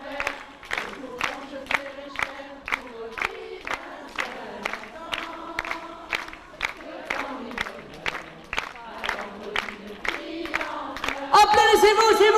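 A crowd at a 1995 concert in Bastia, Corsica claps in a steady rhythm with voices mixed in, then breaks into louder cheering near the end.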